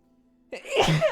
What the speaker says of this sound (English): Hey, sneeze.